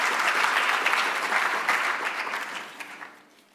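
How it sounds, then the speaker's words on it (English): An audience at an industry and stakeholder forum breaks into a round of applause, dense steady clapping that holds for a few seconds and then thins out and fades. "Can we give him a round of applause?"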